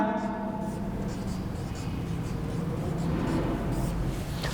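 Pen or chalk writing out exercise question numbers by hand during a Class 10 mathematics lesson, a steady scratchy scrawl running throughout with faint background noise.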